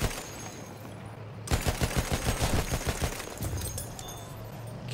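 Rapid gunfire from a weapon in a Battlefield game, a dense burst of repeated shots starting abruptly after a quiet moment and rattling on steadily, loud and close with a grainy background bed.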